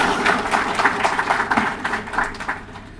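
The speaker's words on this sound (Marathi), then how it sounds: "मला वाटतं टाळ्या एकदा वाजवा" An audience claps together at a book launch ceremony, a dense, steady patter of many hands that swells in uneven waves for about three seconds with no voices over it.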